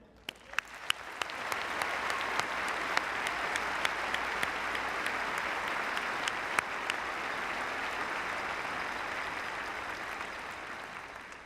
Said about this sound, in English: join me in a round of applause for all of them